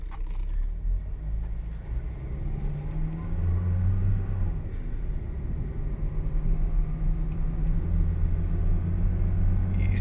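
A Toyota Celica GT-S with an automatic transmission drives down the road as a low engine rumble builds steadily while the shift to third comes late, with the tone rising and then settling.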